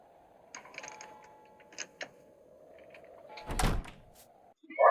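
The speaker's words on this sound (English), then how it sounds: "she locked the door from the outside." A door being locked from the outside in a 1970s horror film, heard as a loud mechanical clunk and rattle near the end after quieter scattered clicks and soft background tone.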